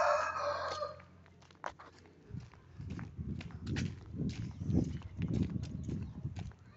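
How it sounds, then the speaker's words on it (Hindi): Aseel and fancy chickens mixed together in a coop, with a brief crow at the start, then steady clucking and scratching close by. "देखें ये मुर्गियाँ वगैरह, ये सारी इसमें मिक्स है।"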